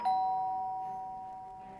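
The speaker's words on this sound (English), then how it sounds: "Might be a case of ringing the old doorbell." A two-tone ding-dong doorbell chime rings once inside a cozy Christmas delivery video game, its clear tone ringing out and slowly decaying with no talking over it.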